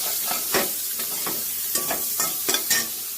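Onions frying in a pan to soften while being stirred, a steady sizzle broken by repeated scraping stir strokes, close and moderately loud with no voices.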